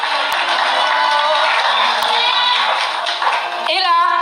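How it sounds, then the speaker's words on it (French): An audience claps and cheers for Miss World Haiti contestants at a pageant final, a loud crowd roar with scattered whoops and tonal music or voices layered through it. "Je vous demande de les applaudir,"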